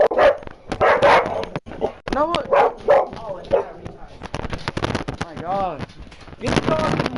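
A dog barks repeatedly indoors in a room during a Madden 18 game session, sharp close barks and yips in bursts, with people talking over and between them.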